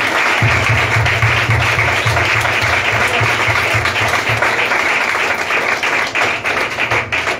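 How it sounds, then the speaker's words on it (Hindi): Applause from a congregation at a church revival thanksgiving and fasting prayer service, dense steady clapping that carries loud and continuous through the whole stretch with a low rumbling hum beneath it. "जोरदार तालियां"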